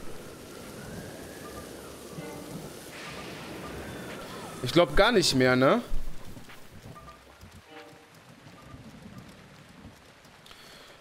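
Steady rain hiss in The Legend of Zelda: Breath of the Wild runs throughout at moderate level, with someone speaking briefly under it and a louder burst of sound midway.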